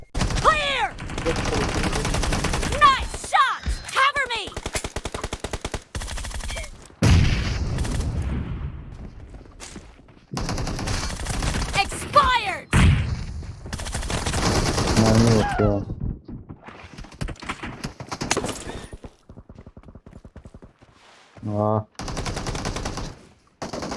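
Rapid automatic gunfire in PUBG Mobile, bursts of shots mixed with louder nearby blasts and frequent gaps, with players talking over the action.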